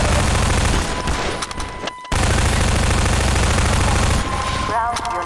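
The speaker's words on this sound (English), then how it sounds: "Fire the grenade launcher." Grenade launcher fire and heavy explosive blasts in the first-person shooter Half-Life 2, loud and continuous with dense gunfire, a sudden brief cut near the middle, then the barrage resumes.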